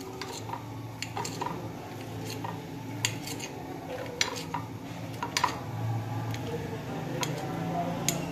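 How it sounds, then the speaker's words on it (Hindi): A knife slices a rolled fried egg into strips for Chinese rice, making quiet, irregular taps and clicks against a board over a low background hum. "एक छुरी की मदद से इसको इस तरीके से हम काटेंगे।"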